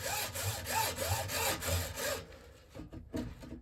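Hand saw strokes rasp through wood in a steady back-and-forth rhythm for about two seconds, then stop, leaving a few faint scrapes and knocks.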